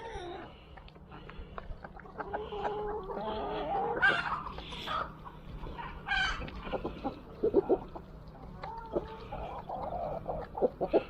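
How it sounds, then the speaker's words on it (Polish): A mixed farmyard flock of ducks and chickens feeds together. Hens cluck and squawk in frequent overlapping bursts, with occasional louder calls over a low background, heard fairly close at moderate volume. "Zobaczcie, całe stado zajada, począwszy od kaczuszek, na kurkach kończąc."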